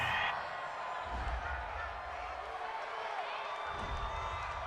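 A home crowd in an NFL football video game, Seahawks at Saints, cheers a pass interference penalty call, a steady, broad stadium roar that swells and holds throughout, with some faint talk mixed in.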